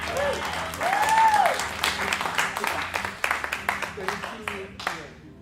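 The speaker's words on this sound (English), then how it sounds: "give a round of applause again" An audience applauds at an open mic jazz jam, with a burst of clapping and cheers under a host's voice that tapers into scattered claps.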